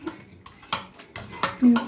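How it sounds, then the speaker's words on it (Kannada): Cooked palak dal being mashed with a masher in a pot, giving a few soft, close scraping and clinking knocks against the vessel at an uneven rhythm. "ಇದನ್ನು ಸ್ಮ್ಯಾಶರ್ ತೊಗೊಂಡು ಸ್ಮ್ಯಾಶ್ ಮಾಡ್ಕೋಬೇಕು."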